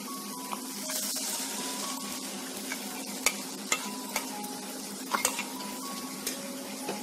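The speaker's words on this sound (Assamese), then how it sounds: "আৰু এতিয়া খুব ধুনীয়াকৈ লৰাই দিম।" Blended mango pulp is stirred in a pan on the stove, a low bubbling sizzle under repeated sharp clicks and taps of a spoon against the metal, close and fairly quiet, with no speech.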